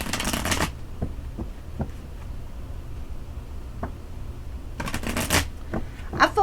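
Tarot cards shuffled close up in two quick riffling bursts at start and end, with soft taps and flicks of single cards being pulled in between.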